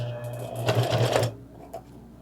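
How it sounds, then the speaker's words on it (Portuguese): Sewing machine running at its longest stitch length while sewing around the pockets of a fabric toiletry bag with a zipper, a steady close mechanical whirr for about a second that then stops, followed by a faint click. "Coloquei o ponto máximo da minha máquina, o ponto número 5, e vou começar a costurar aqui."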